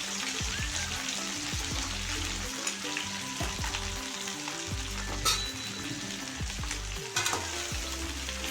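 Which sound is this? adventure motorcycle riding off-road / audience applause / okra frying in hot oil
okra frying in hot oil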